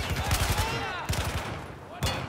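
Battlefield 4 gunfire during a campaign mission: close, loud bursts of rapid shots in three clusters with echoing tails, and someone talking under them.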